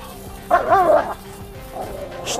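A dog lets out a short burst of high, yipping barks, followed by a quieter whine, with background noise throughout.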